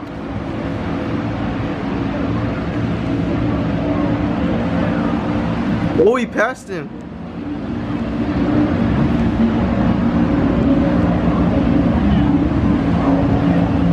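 Steady roar of powerful offshore racing powerboat engines at the 2017 Super Boat Grand Prix, Space Coast, loud and continuous, with a brief dip midway; a voice speaks briefly over the noise.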